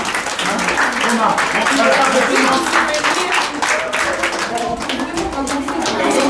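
Classroom of fifth-grade children clapping together during a tablet project launch, a lively uneven patter of many small hands close by, mixed with children's voices and an adult speaking over it.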